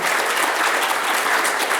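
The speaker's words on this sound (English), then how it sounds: "Please give a round of applause to Naomi." An audience at a workshop applauds the co-host, a thick, even wash of many hands clapping at once, sustained without pause and with no voices over it.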